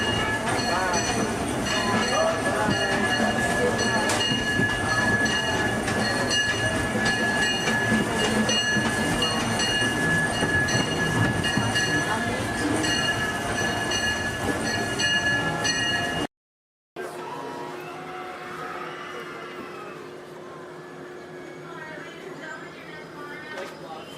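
A Disneyland Railroad train stands at Main Street Station, its steady loud rumble and hum filling most of the stretch before a brief cut, then a quieter hum with a voice speaking over it.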